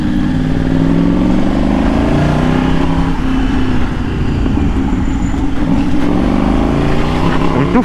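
A motorcycle engine revs hard while riding along a four-lane road, its loud, close note rising and falling through gear changes over steady wind and road noise.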